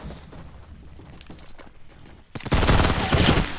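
Fortnite gunfire, a few scattered shots and footsteps at first, then a sudden loud burst of rapid automatic fire that continues to the end.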